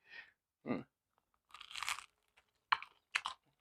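Someone bites and chews a crispy charcoal-grilled pizza, producing a few close, quiet crunches and chewing sounds separated by short silences.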